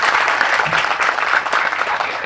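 Loud, dense applause from an audience welcoming film director Vetrimaaran at a Tamil movie audio launch, a steady wash of clapping filling the whole stretch with no talk over it.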